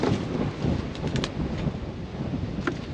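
Strong wind blowing outdoors on a farm, a steady close roar buffeting the microphone with low rumbling gusts and a few brief rustles, no voices.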